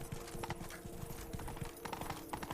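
Roach, Geralt's horse in The Witcher 3, trots with rhythmic clip-clop hoofbeats, steady and fairly close over a soft game ambience.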